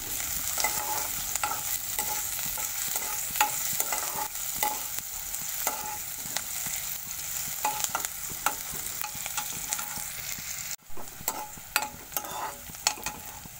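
Green chilies and vegetables sauté in a pan for a red lentil carrot soup, with steady sizzling and frying throughout, punctuated by frequent scraping stirs of a utensil against the pan.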